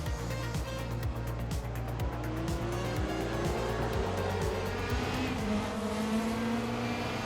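An Abt Audi TT-R DTM touring car from 2002 races around the Hockenheimring in Raceroom, its engine buzzing loudly and continuously with the pitch climbing through the gears and rhythmic shift cuts.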